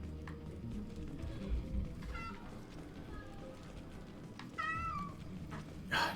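A domestic cat meows a few times, asking to be let out, with two or three rising calls spread over several seconds against a low background hum and faint room noise, fairly near.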